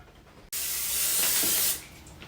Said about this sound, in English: Start by spraying the pan.